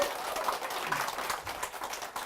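An audience at a business presentation gives a brief round of applause. The clapping is moderately loud and fairly steady across the short stretch, from many hands in a room.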